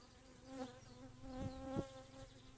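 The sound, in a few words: honeybees buzzing during hive inspection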